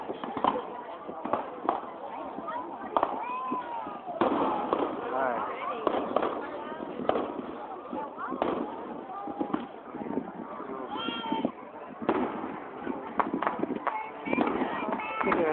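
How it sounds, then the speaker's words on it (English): Fireworks grand finale at a grand opening: a dense, continuous barrage of crackling pops and bursts, with people talking throughout. "Nice fireworks."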